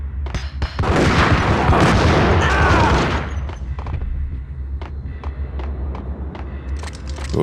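Grenade blasts go off in the Max Payne game: a loud, sustained rumble of explosions for a few seconds, then fading into scattered sharper bangs and debris noise.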